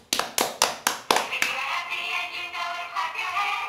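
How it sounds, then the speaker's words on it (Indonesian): Hands clap five or six times in a quick, sharp rhythm near a children's book reading, followed by a softer sustained sound with no more claps. "tepuk tangan, clap your hand."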